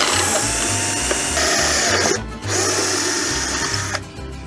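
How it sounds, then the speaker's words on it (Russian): A power drill with a slightly thicker bit boring a hole while fitting a seat on a White Siberia Sputnik, a loud close whine that runs continuously, dips briefly, then resumes. "Потом берем сверло чуть потолще."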